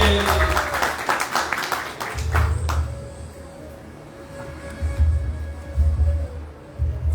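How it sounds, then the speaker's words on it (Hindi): An audience at a college gathering at a Sri Krishna temple gives applause for the principal, a burst of clapping that fades quickly into quieter room sound with a low hum. "जोरदार ताली प्रिंसिपल प्रभु को कॉलेज के"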